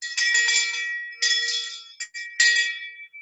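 A bell rings at a workplace meeting to celebrate a team nearly hitting its monthly goal: three bright, sustained metallic ringing bursts with short gaps between them, loud and close, with no talking.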